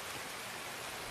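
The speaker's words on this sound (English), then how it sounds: "The rain is so loud." Steady, dense rain from the Escape from Tarkov game, a loud, even broadband hiss with no pauses and no voices on top.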